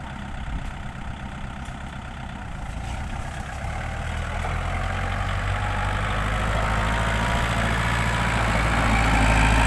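A Kubota LC 708 diesel tractor engine runs steadily with a deep, rumbling drone that grows slightly louder and heavier toward the end. No voices are heard.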